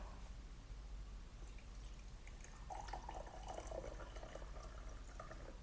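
Warm water poured into a glass holding squeezed lemon and ginger, a soft trickling stream that begins partway through and continues faintly over low background hiss, with no speech.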